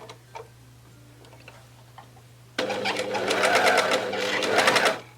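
An overlocker sewing machine stitches fabric, starting abruptly after a quiet stretch with faint ticks, then running loud and steady with a rapid, even mechanical chatter until it stops near the end.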